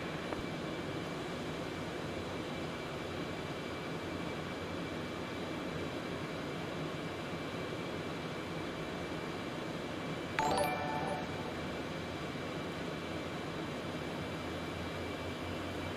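A Concorde jet taking off in X-Plane 11 on runway 09, heard as a steady, broad, faint engine roar that continues throughout, with a brief click partway through.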